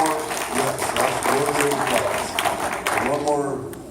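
Audience applause at a candidate forum, a steady wash of clapping from a crowd that holds for about four seconds and tapers off near the end, with a voice running under it.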